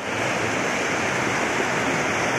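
Mountain stream near a packhorse bridge by Ribblehead Viaduct, a steady broadband rush of flowing water heard close and fairly loud, continuous with no voices.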